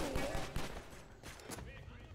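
Gunfire rattles in the third-person shooter Stranglehold, a quick fusillade of overlapping shots and bursts, fairly faint and mixed with game sounds and a voice talking over the action.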